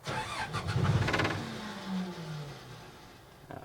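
A 2004 excavator's 4BT diesel engine is cranked and starts, a short starter whir giving way to a low running rumble that settles. A brief clunk comes near the end, with no talking.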